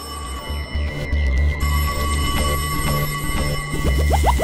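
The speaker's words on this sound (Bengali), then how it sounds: "ওহো, আবার ফোন।" A telephone rings with a loud electric bell, repeated trilling over a continuous ringing tone.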